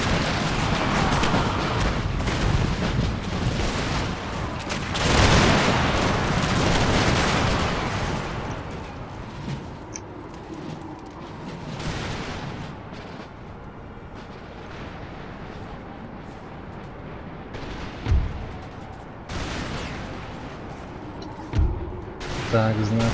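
Musket volleys and battlefield gunfire from troops in an Empire: Total War battle, loud bursts dominating the first half, then sparser scattered shots and booms, with someone talking over parts of it.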